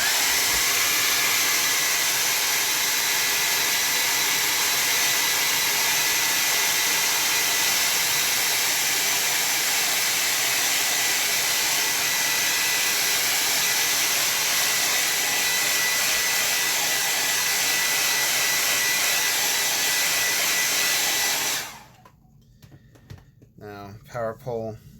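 A hair dryer blows over a wet watercolor painting with a loud, steady whirring hum for about twenty seconds, then cuts off abruptly, and a voice talks in the quiet that follows.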